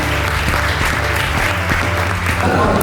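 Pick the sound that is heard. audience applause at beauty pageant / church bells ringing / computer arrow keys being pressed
audience applause at beauty pageant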